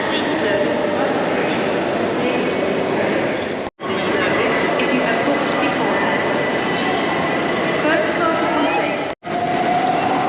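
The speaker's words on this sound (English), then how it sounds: "So here is the main concourse of Paddington Mainline Station" Busy ambience of the main concourse at London Paddington mainline station, beneath its giant wrought-iron train shed: a dense, steady wash of crowd and rail noise with distant train sounds, broken by two brief dropouts.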